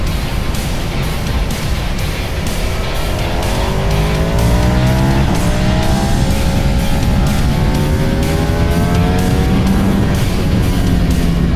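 Ducati Panigale V4S motorcycle ridden through tight turns in first gear on a Romanian road, its loud, close engine rising and falling in pitch as the revs change, over constant wind roar. No one speaks.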